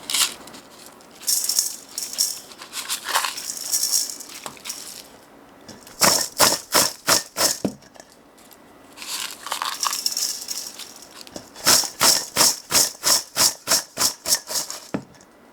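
Coarse salt poured over onions for Korean water kimchi, heard as gritty rattling pours and bursts of fast, rhythmic crunching clicks, close and fairly loud with quiet gaps between.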